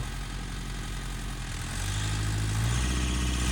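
A tractor engine strains as it climbs uphill towing a jet ski, a steady low droning rumble that grows louder and deeper partway through, close and continuous with no talk.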